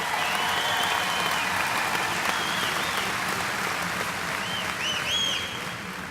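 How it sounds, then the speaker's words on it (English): Graduates of the Morristown-Hamblen High School East Class of 2017 receive a sustained wave of crowd applause, with scattered whistles near the end. "give them one more round of applause"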